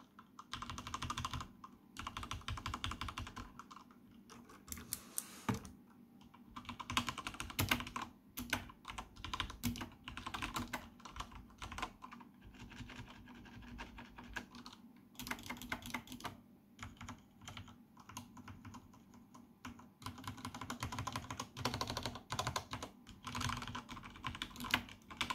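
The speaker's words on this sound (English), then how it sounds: "And here is the Cherry MX Red." Typing on a mechanical keyboard with Cherry MX Red linear switches produces a continuous run of quiet, rapid key clacks that stays fairly faint and even throughout, with brief pauses and no talking.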